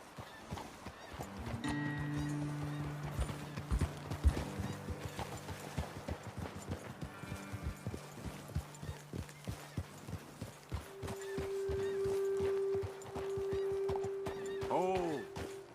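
Horses in the Red Dead Redemption 2 video game clip-clop along with a steady walking rhythm of hooves, joined by a whinny and snorting near the end, with a voice talking over the middle.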